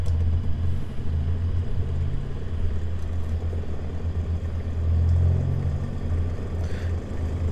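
A homemade magnetless attraction motor running on battery power, giving a steady low hum and rumble that stays even and close, with no talk.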